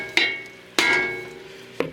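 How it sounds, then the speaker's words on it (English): Three sharp metallic hammer strikes on a Honda Civic front suspension part during a camber kit install, two close together and a third after a pause, each ringing briefly, with no talking. "You want to smack it right there on the side."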